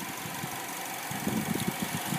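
A 2012 Chevy Malibu LT with a 2.4-liter Ecotec straight four-cylinder idles up close, a steady low rumble that picks up a slightly uneven, knocking pulse partway through, with no talk.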